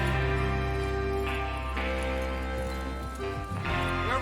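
Horses' hooves clatter at a gallop in the Red Dead Redemption 2 video game, a steady close clip-clop running under continuous game music.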